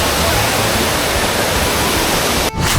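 Water pouring and splashing at the Trevi Fountain in Rome, a steady, loud broadband rush that holds constant for nearly three seconds, then briefly dips before resuming.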